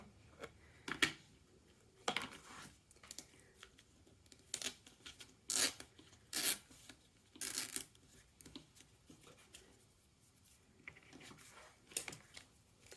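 Paper is cut and torn by hand for a treasure journal. Quiet, close rips and snips come in short separate bursts, a few sharper tears stand out in the middle, and faint rustling sounds between them.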